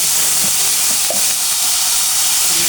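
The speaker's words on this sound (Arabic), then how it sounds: "دي طريقه عمل المسقعه زي ما انت شايفه، بتحمر في الزيت زي ما انت شايفه كده" Eggplant slices for Egyptian-style moussaka frying in hot oil, a steady close sizzle and hiss with faint stirring clicks, no voices.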